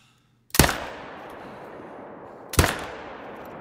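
Two loud rifle shots at fallow deer in theHunter: Call of the Wild, spaced about two seconds apart, each a sharp crack followed by a long fading echo, with no talking.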